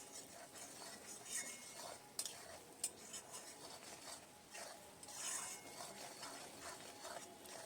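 Chicken being stirred in a pan for Bengali-style chicken kosha, with steady scraping and clinking of a spoon against the metal pan and a faint sizzle underneath, continuous and close, with no talking.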